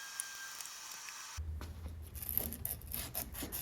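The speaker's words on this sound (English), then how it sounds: "I'm scuffing up the steer tube so the silver flows nice" An abrasive scuffs the steel steer tube of a handmade rim-brake cantilever bicycle fork, giving close, quiet, scratchy rubbing strokes that start abruptly after a near-silent opening.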